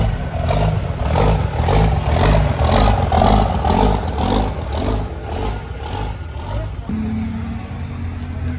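A Cummins diesel pickup truck at a truck show rumbles close and loud, its engine pulsing through a rhythmic rev and clatter before settling into a lower, steady idle.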